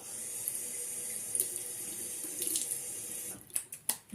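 Water runs steadily from a bathroom sink tap as a steady hiss with splashes, then breaks into several distinct splashy bursts near the end as hands scoop water to wet the face.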